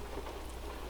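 Steady rain patters down in American Truck Simulator, a dense, even hiss of drops with a low rumble beneath, heard alone without any voices.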